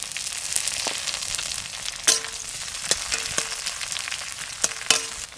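Greens frying with garlic and onion in a pan, a steady close sizzle with scattered sharp pops and stirring clicks, no voices.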